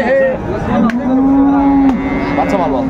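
A cow at a busy cattle market gives a long, loud, close moo that holds a steady drawn-out tone and then trails off, with faint market bustle behind it.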